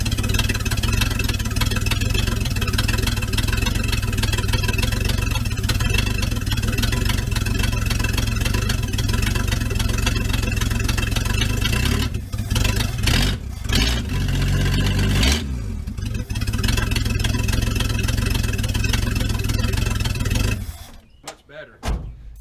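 A 1982 Ford Bullnose truck engine, after head gasket and timing work, restarts and idles with a steady, rumbling drone, nearby and loud, with voices talking briefly over it before it cuts off near the end.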